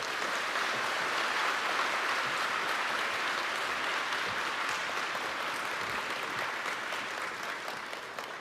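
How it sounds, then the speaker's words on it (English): Audience applauding the CU chorus at a lecture event, a dense, loud, sustained wash of clapping that tapers slightly near the end. "one round of applause for the CU chorus."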